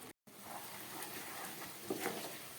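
Mutton sizzling and frying in a pan, a steady soft crackling hiss, fairly faint, with a brief stir partway through and no talking.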